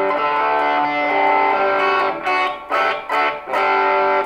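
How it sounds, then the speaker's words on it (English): Electric guitar played through a Positive Grid Spark amp with Hall Natural reverb and no delay, sustained chords and notes ringing out with a roomy hall tail, loud and up close, with no talking. "for reverb, I'm gonna choose the Hall Natural."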